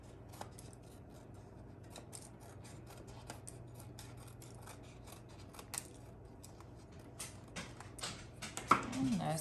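Scissors snip and rub along the edge of a woven paper egg, trimming off excess paper in a string of short, quiet cuts close by, with a rustle of paper building toward the end.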